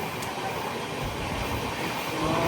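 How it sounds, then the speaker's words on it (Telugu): On the Vivek Express in Bengal, crossing the Eastern Railway zone near Bolpur Shantiniketan, another train overtakes alongside: a loud, continuous rail rumble and hiss fills the whole stretch, with no talking. "అమ్మ బాబోయ్, ఏదో ట్రైన్ మన ట్రైన్ ఓవర్టేక్ చేస్తుంది."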